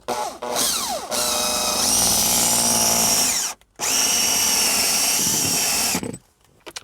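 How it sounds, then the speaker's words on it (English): A power drill bores a hole into a car's center console between a USB port and a 12-volt socket, with three loud whining bursts, each rising in pitch and then stopping, separated by short silent pauses. "we're gonna take our drill and we're gonna drill a hole right here in the middle between the USB and this 12-volt socket"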